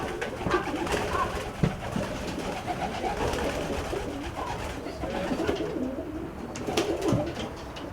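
Stock roller pigeons in a breeding loft in Melbourne coo repeatedly in soft, overlapping low calls, with a steady murmur of birds close by and no talking.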